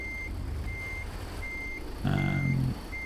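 In American Truck Simulator, a truck parking a trailer gives off steady, evenly spaced reversing beeps over an engine rumble, with a short, louder burst of engine or air noise midway.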